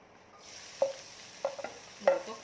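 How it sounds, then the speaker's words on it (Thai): Pork is stir-fried over medium-low heat in a pan for a Thai winged bean salad, with a soft steady sizzle and three distinct scrapes of a utensil stirring against the pan. "หมูก็คั่วเหมือนกันค่ะ"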